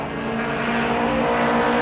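A Red Eye Mod Mini race car runs a qualifying lap at New Smyrna, its engine a loud, steady, droning roar that swells slightly as it holds speed around the track.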